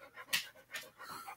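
Dogs pant close by in a house, quick breathy huffs in a short uneven rhythm of about three bursts, fairly soft with no talking.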